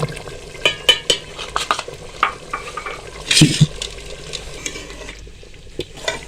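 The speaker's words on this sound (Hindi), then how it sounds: "पालक हमारी पक रही है, तो हम इसमें दूध मलाई वाला शामिल कर देंगे।" Palak gosht, spinach and mutton, cooking in a pot with spoon scrapes and stirring clatter over a low steady sizzle, with no voices.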